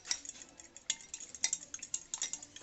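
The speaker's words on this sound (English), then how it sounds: "You need to whisk up your egg." An egg is whisked in a bowl with quick, rhythmic light clinks and scrapes of the utensil against the sides, faint and close.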